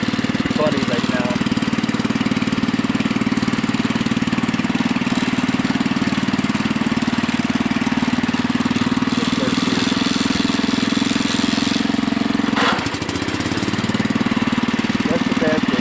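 A Husky 600 engine runs with a funny, uneven throttle, a loud continuous drone close by that wavers in pitch and briefly dips near the end before settling again.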